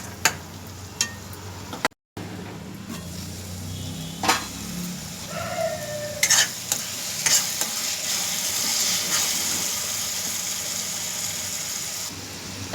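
Andhra-style fish pulusu masala with tomato simmers in a pan with a soft continuous sizzle, broken by a few scraping stirs and clinks close by.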